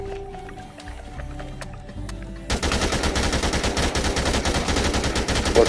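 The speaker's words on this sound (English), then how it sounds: "Let's burn this machine gun." Rapid, relentless machine-gun fire from the Dead Rising 2: Off the Record video game erupts after a quieter stretch of scattered game noises, loud and sustained with a steady rattling rhythm.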